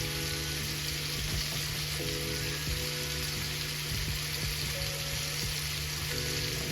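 Steak and onions fry steadily in a pan, a continuous dense sizzle with a low hum beneath and occasional faint ticks, close and unbroken throughout.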